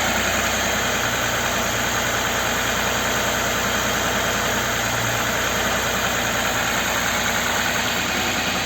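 Audi Q7 with a 3.6 FSI engine idling after warm-up, a steady, continuous mid-pitched engine drone with a faint knock, close and constant with no talk.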